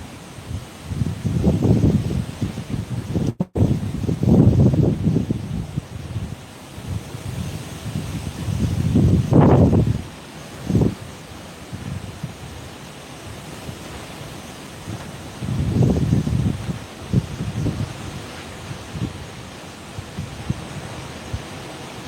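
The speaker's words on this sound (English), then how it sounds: "Then you'll get like a real big gust." Strong typhoon wind on Bantayan Island roars in repeated surging gusts, loud and rough against the microphone, with no voices over the rushing noise.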